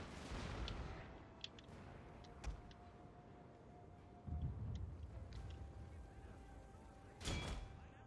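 Scattered distant artillery booms and musket or rifle shots from a Total War: Fall of the Samurai battle, sporadic cracks and two heavier rumbling blasts over a low ambient din, with faint voices in the background.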